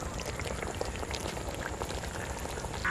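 Tomatoes cook in a karahi with a soft, steady bubbling and popping like a gentle simmer, close and quiet, with no voices.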